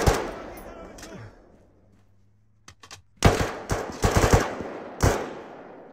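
Loud bursts of automatic machine gun fire in the Arma 3 military shooter, several sharp rattling volleys separated by short gaps and a quieter lull, close and punchy.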